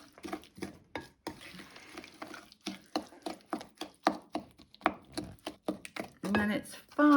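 Yacon being stirred into a simple fruit cake batter in a bowl, a run of repeated spoon scrapes and soft thuds in an irregular rhythm, close and moderately loud with no talking.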